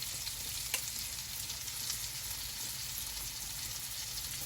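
Marinated pork sizzles and fries steadily in a hot pan, a continuous close crackle with a faint stir partway through and no voices.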